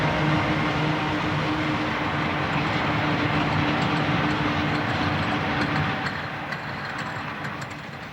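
A heavy freight train climbs a steep, high mountain mainline with four AC4400 helper locomotives mid-train. It makes a loud, sustained diesel roar and rumble with steady mechanical drone, easing slightly toward the end, and no voices.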